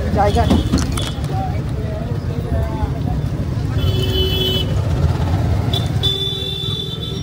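Ride through busy street traffic in an e-rickshaw (toto), with a constant road rumble, passing vehicles and several short horn toots, plus a high electronic beeping tone partway through.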